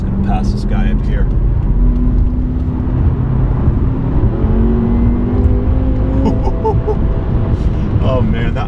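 BMW F10 M5 with the S63B44TU V8 engine, high mileage, accelerating hard on the road to overtake another car, a steady loud engine drone throughout with a voice talking over it.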